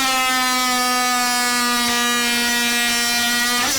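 A DeWalt 20V cordless oscillating multi-tool makes a straight down cut under heavy pressure, a loud, steady high-pitched buzzing whine that holds an even pitch close up without bogging, with no talk.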